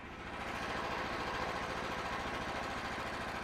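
Steady, loud mechanical drone of a Frontier OS27 sawmill's engine and dull blade cutting a knotty log into beams, a continuous rhythmic pulsing hum with no pauses across the whole stretch.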